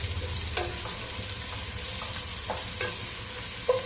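Onions and curry leaves sautéing for kappa biryani, a steady quiet sizzle broken by a few light scraping stir strokes, close by.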